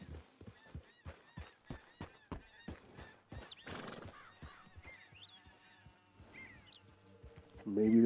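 A horse in the video game Red Dead Redemption clops with a steady, repeated hoof rhythm, then lets out a whinny, with faint other animal calls and ambient sounds around it; no one speaks.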